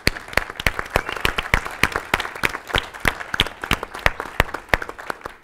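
Audience applause for John Grafman at the AutoDesignO "Cars of Character" event: a modest group clapping in sharp, distinct, closely spaced claps, fairly near and steady throughout with no speech over it.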